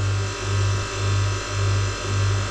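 A 16,000 to 24,000 BTU reverse cycle marine air conditioner runs aboard a 1998 Ruby 65 boat. It gives a steady close hum with a low throb that pulses in even swells about twice a second, with no voices.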